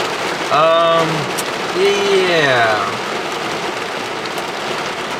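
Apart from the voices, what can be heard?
heavy rain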